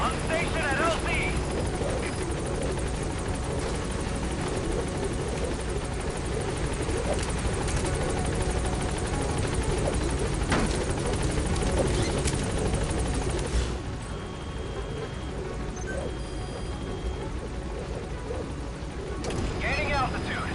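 B-Quad support helicopter from Metal Gear Solid V arriving at the landing zone: a loud, continuous close rotor thrum and turbine roar that eases slightly partway through, with voices speaking over it.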